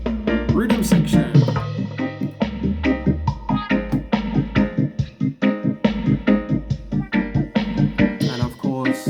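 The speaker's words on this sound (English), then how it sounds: "Rhythm section." Reggae rhythm section from the track pulses loud and steady, heavy bass notes under choppy offbeat chord stabs and drums in a regular skanking rhythm.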